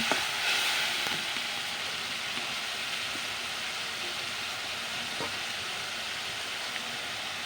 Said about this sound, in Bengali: এখন আমি মশলাটা দিয়ে দিলাম হালকা একটু কষাও নেবো